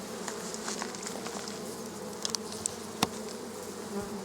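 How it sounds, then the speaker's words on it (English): Honey bees swarm over the top of a crowded nuc hive, a dense steady buzzing close by with occasional louder individual passes and a few faint knocks. "Man, look at all those bees on this top."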